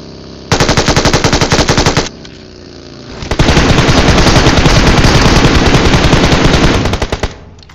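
Loud, sustained automatic gunfire in the battle royale game BGMI: one burst of rapid shots of about a second and a half, a short pause, then a longer unbroken burst lasting around four seconds.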